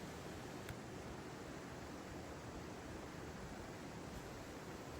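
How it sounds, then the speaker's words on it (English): Cool mountain water rushes steadily, a dense broadband hiss that stays constant and faint throughout with no pauses or voices. "the sounds of the cool, rushing water"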